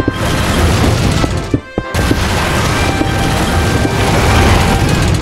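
A video game self-destruct mechanism detonates in a loud, dense roar of crackling blasts, broken by a brief dropout before the rumbling explosion noise resumes and continues to the end.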